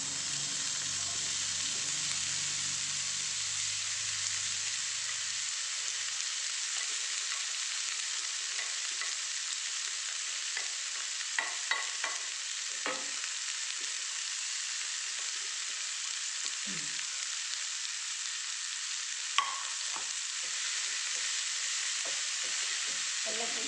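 Spinach stir-fried in a pan, a steady moderate sizzle throughout with scattered utensil clicks and light scraping, and a faint low voice at the start.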